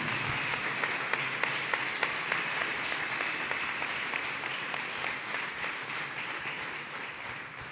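A church congregation claps along at a Sunday service, a broad sustained wash of many hands with a few sharper individual claps standing out, continuing steadily without speech.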